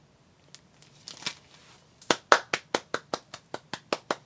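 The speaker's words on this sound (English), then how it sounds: "Golf clap" Soft, slow hand claps, a quiet golf clap, start as a few scattered claps and then settle into a steady run of about a dozen evenly spaced claps close by.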